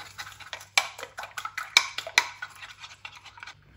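A spoon stirring a spice mixture with kalonji and white sesame seeds in a bowl, a quick run of scraping clinks and taps, close and fairly loud, with no talk.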